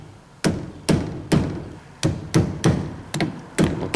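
A small hammer taps a car's steering rack boot in nine sharp, evenly spaced knocks, each one close and crisp with a short ringing decay.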